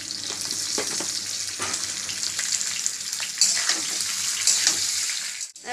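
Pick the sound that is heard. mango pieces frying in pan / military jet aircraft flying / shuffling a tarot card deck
mango pieces frying in pan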